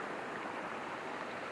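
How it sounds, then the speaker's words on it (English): Water flows steadily along a stream or small river beside a walking path in Eskdale at low water. It makes a soft, even rush with no talking. "We're going up by the side of the stream or the river"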